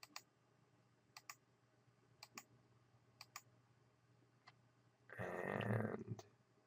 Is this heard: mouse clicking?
yes